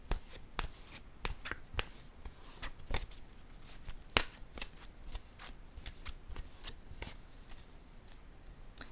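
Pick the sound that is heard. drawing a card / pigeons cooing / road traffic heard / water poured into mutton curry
drawing a card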